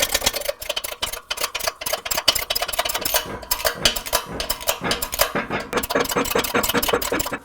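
Rapid, rhythmic mechanical clatter and knocking of a press driving the wheel hub into the front wheel bearing of a 1998–2002 Honda Accord, with irregular metallic taps layered over it throughout.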